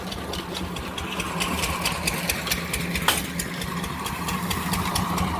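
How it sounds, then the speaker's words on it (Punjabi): An engine-driven sugarcane crusher runs in a village during jaggery making, with a steady rhythmic mechanical chug and fast ticking clatter at moderate distance, one sharp knock midway. "ਦੇਖੋ ਇਦਾਂ ਹੁੰਦੇ ਨੇ ਆਪਣੇ ਪਿੰਡੇ ਲਾਈ ਹੋਈ ਆ ਕਲਾੜੀ ਅੰਕਲ ਆਉਣਾ ਨੇ ਉੱਥੇ ਚੱਲਦੀ ਆ"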